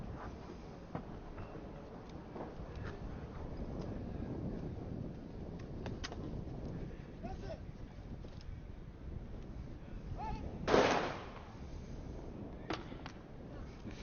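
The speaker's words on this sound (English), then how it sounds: "The first shot's away." A single loud gunshot cracks out during a SWAT team shooting challenge in the UAE, standing out above steady wind noise and outdoor rumble while a commentator talks.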